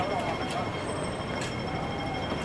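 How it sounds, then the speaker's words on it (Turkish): A double-decker tram in Hong Kong rumbles past with a steady rolling roar and faint metallic squeals, set against street noise. "Şu da tramvay. Böyle 2 katlı"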